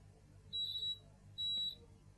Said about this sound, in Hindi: अभी आप देख सकते हैं ये बीप कर रहा है क्योंकि ये कॉन्टीन्यूअस है।